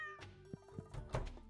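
A cat meows in the farming video game Starworld Farm, several short close meows in quick succession over faint game background sounds, with no speech.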